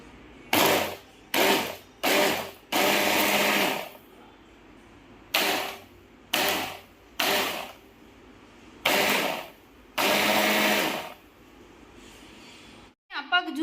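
A blender chopper whirs through watermelon and sugar for juice in loud, close bursts of one to two seconds each, about eight in all, with brief pauses between.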